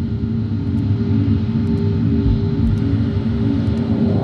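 An airliner in steady flight gives a continuous, even engine drone with low rumble, heard alone at a constant level throughout.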